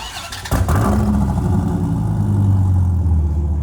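A Dodge Viper ACR engine cranks and catches with a sudden burst, then settles into a loud, deep, rumbling idle close by.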